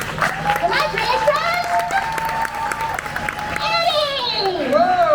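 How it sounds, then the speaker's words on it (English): Audience applause and cheering with whistles at a live show at Universal Studios Orlando, a steady loud crowd roar that lasts the whole stretch, with whoops and voices mixed in. "So, a round of applause, make some noise."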